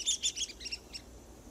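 A small red-cockaded woodpecker in a pine forest gives a quick run of about six high, scratchy chirps, fading toward the end, heard fairly close against quiet woodland background.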